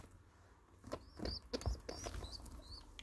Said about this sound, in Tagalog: Kalapati yata ito guys